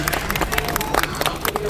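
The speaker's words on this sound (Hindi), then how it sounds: "बहुत बहुत तालियां बजा दीजिए, इस्तकबाल करें।" Audience applause at a mushaira Urdu poetry gathering in Kanpur: a steady wash of clapping from a crowd, dense and continuous with scattered sharper claps throughout.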